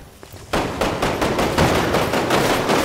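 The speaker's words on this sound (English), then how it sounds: "Okay, I want to use my hand cannon." Rapid bursts of hand cannon gunfire in the Resident Evil Umbrella Corps mansion map, loud and close, firing repeatedly in quick succession for about two and a half seconds after a brief quiet start.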